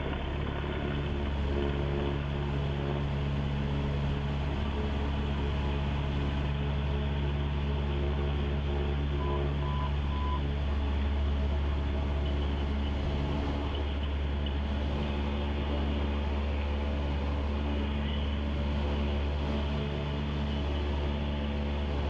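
A light aircraft engine at full power on the takeoff roll, a loud, unbroken droning roar with a steady tone, heard from inside the cockpit for over twenty seconds.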